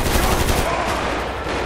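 Automatic gunfire in a video game roleplay police chase: a loud, dense burst of rapid shots that fills the whole moment, then tails off into a noisy rattle.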